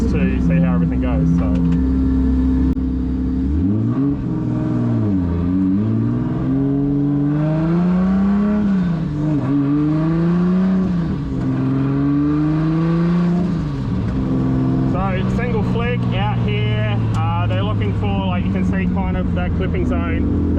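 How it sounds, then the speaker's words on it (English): A tuned car on a track run-in session at low boost accelerates hard, its engine roaring loud and close with rising and falling revs through repeated gear pulls, then a rougher revving burst near the end. "I'm only here running my car in, so I'm just gonna do a single run, no drifting, not much boost"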